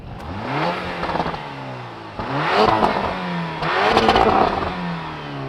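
A Porsche SUV engine revs repeatedly, heard from outside, its exhaust note climbing and falling in three rising pulls, loud and fairly close, with no voices.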